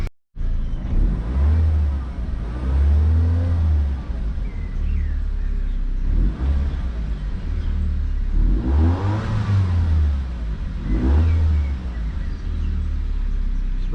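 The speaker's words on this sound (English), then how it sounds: "just get the car down and give it a few revs" An MK5 VW Golf engine with a fuel pressure regulator fault idles roughly and is revved several times, with loud, deep surges rising and falling about every three seconds, close by and without talk.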